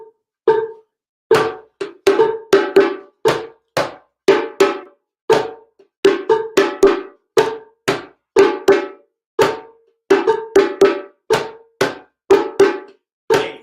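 A hand drum played in a rhythm of bass and tone strokes, sharp, close, loud hits in a steady pattern with no talking.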